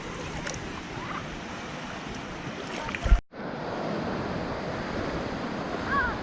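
Ocean surf breaking at St. Augustine Beach, Florida, a steady wash of waves with wind buffeting the microphone and a brief sharp bump midway, no speech.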